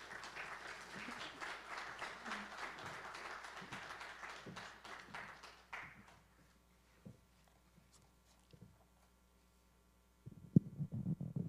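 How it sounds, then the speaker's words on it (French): Audience applause greets a speaker walking to the lectern at a Haitian central bank event on research funding. The clapping is full for about six seconds, then thins to scattered claps and near silence, with low thumps and shuffling at the end. "Sous vos applaudissements."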